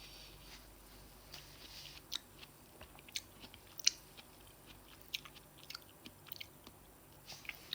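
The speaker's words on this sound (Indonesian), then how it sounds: "Memakan melon dengan barbar." Someone chews melon noisily, a series of soft, wet, irregular crunches and bites close to the microphone, fairly quiet against a hushed background with no talking.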